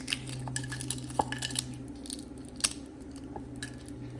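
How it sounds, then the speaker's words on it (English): Tamarind shells crack and crunch by hand over a bowl in a kitchen, giving a series of small brittle snaps and clicks over a steady low hum. "you're gonna crack the shells in here and you're gonna get rid of them"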